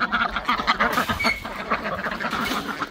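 Ducks quack steadily in a farm yard while being herded toward their pen, a dense overlapping chorus of calls close by, with a few faint human sounds in the background.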